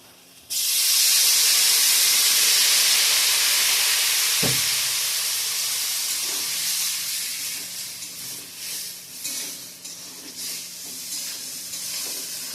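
Water splashes into a pan of frying spice paste, setting off a loud, steady steam hiss and sizzle that slowly settles into softer crackling.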